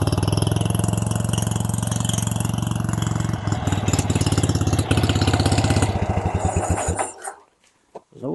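A UD-25 engine fitted with a K-16M carburetor idles close by with a steady, loud, rhythmic clatter for about seven seconds, then cuts out abruptly into near silence before a brief restart at the end.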